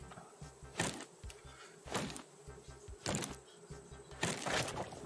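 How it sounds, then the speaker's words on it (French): Bees on an island in the game Raft, a faint, low droning buzz beneath several sharp clicks and rustles. "on a découvert une île où il y a des abeilles"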